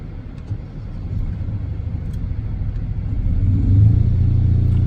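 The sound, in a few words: brush truck engine throttled up to full, running fire pump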